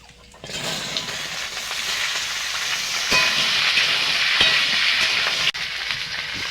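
Winter vegetables hit hot oil tempered with panch phoron and sizzle in a continuous bright hiss close by, with a few sharp crackles and pops along the way.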